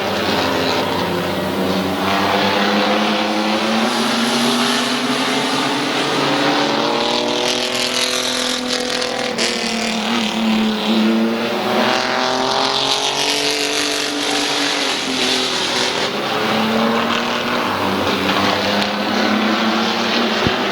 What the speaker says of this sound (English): Eddie McLean trying to get around Bob Johnson for the race lead.